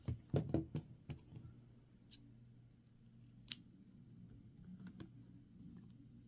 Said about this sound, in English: After your last stitch, cut the yarn.